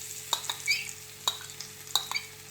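Crushed garlic frying in hot oil for chicken chow mein, a quiet sizzle broken by several distinct sharp spatula clicks against the pan, close and without voices.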